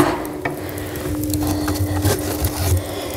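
A hot ember is pulled from a wood stove, with close scraping and knocking of wood and metal, faint crackle and a low steady hum throughout, no speech.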